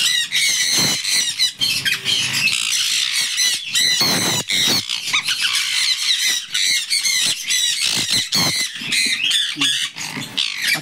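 Hand-fed conure chicks squawk loudly and close by in rapid, overlapping harsh calls, a near-continuous chorus of raspy begging cries with brief gaps and no talking.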